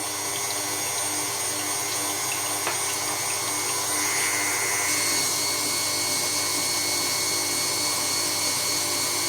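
A steady mechanical whir of a small motorized machine churning cream into butter runs continuously, with a faint shift in pitch partway through.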